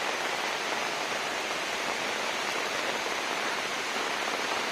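Steady broadband rush of water pouring over the Nekkarekalaya dam during rain, a constant dense hiss with no breaks or voices.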